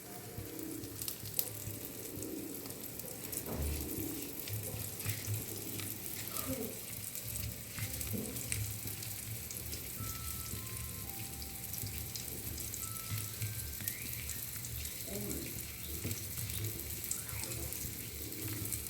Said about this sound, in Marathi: हे मस्त तेल तापलेलं पाहिजे आणि त्यात असं सोडायचं.